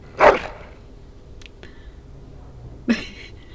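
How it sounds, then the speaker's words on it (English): A dog barks in Dragon Age: Origins, two sharp, loud single barks a few seconds apart, with faint background ambience between them. "And shut that dog up, would you?"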